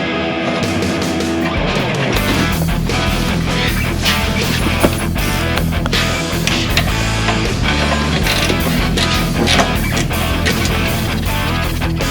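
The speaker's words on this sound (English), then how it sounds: "use a 13mm ratcheting wrench to tighten down the fuel filter" A 13mm ratcheting wrench tightens the nuts on a Jeep Gladiator diesel fuel filter, giving steady dense clicking up close with continuous mechanical rattle throughout.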